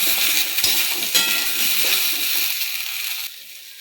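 Vegetables seasoned with turmeric and salt fry in a pan and get stirred, a loud hissing sizzle with a couple of scraping strokes that cuts off abruptly near the end.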